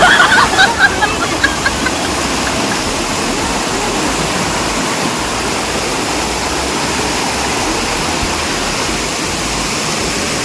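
Rushing water at Chakratirtha waterfall in Keonjhar, a loud, dense, unbroken roar that fills the whole scene from start to finish, with a few brief bright sounds at the very beginning.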